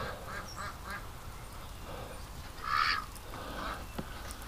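Crossbred ducks quack in a winter yard: scattered, moderately near calls with one louder, harsher honk-like burst midway.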